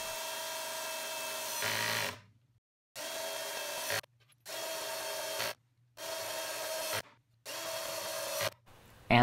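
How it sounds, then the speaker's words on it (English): A regular screw is driven into hard maple in five separate bursts, each a loud whirring, grinding drive of one to two seconds broken by short silences, close up. "By driving a screw into this piece of hard maple"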